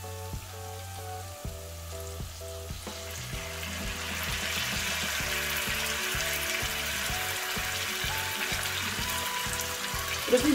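Pickle brine poured into a hot pan sets off a steady, loud sizzle of frying that swells and keeps crackling. Stirring and clinking sound through it, with no talking.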